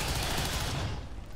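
Dense, rapid gunfire from a squad-based shooter video game, a continuous burst of overlapping shots filling the short stretch and tailing off slightly at the end.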